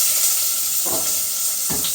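Onions sizzle steadily in a hot pan while tempering with curry leaves for bitter gourd curry, a constant loud hiss broken by two brief stirring scrapes.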